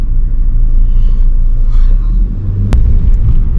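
A car creeping slowly through traffic on a narrow road near Mahabaleshwar, heard from inside as a loud, steady low engine and road rumble with one brief sharp click and no talking.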